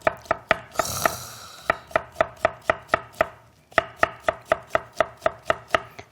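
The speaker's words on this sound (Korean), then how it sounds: "조금 가늘고 이렇게 해서 썰어 보도록 할게요." Knife slicing zucchini into thin julienne strips on a cutting board, a crisp, regular series of close chopping taps, briefly interrupted by a rustling shuffle of the pieces before the rhythmic cutting resumes.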